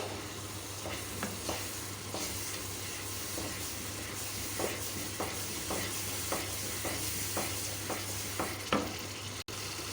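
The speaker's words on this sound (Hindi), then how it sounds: "दो से 3 मिनट हम इसको भूनते हैं।" Pakora mixture sizzling steadily in a kadhai, with a constant frying hiss broken by repeated scraping stirs of a spoon against the pan, close and alone with no talk.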